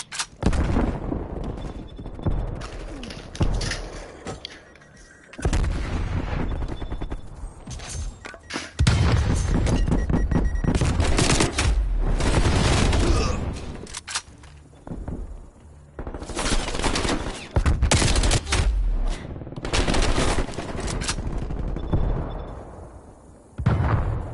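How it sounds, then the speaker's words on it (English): Incoming artillery in a Cold War shooter: heavy booms and explosions crash in loud waves, mixed with bursts of gunfire and rolling rumble, with brief lulls between barrages. "Hostile artillery targeting active. Net call. Incoming artillery."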